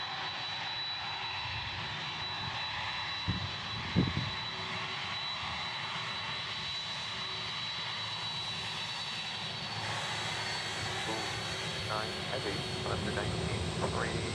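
A FedEx jet lands at Memphis International Airport on runway 18, a distant, steady engine roar that holds throughout, with a couple of brief thumps.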